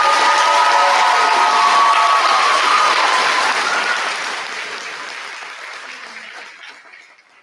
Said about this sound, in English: one more round of applause for these amazing contestants